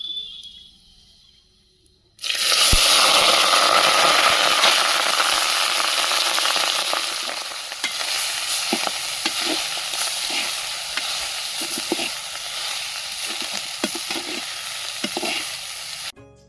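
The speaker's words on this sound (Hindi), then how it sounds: "तो घी गरम हो गया है अच्छे से। फिर हमने इसमें इलायची डाल दी है, पुलाव डाल दिया है। हम लगातार इसको चलाएंगे" Rice with cardamom tossed into hot ghee over a wood-fired clay stove, bursting into a loud, steady sizzle after a quiet start, with intermittent scrapes and knocks of stirring throughout.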